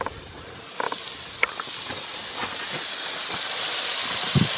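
Steaks searing on a grill at an outdoor basecamp, giving a steady broad hiss with faint scattered crackles and pops, close and continuous throughout.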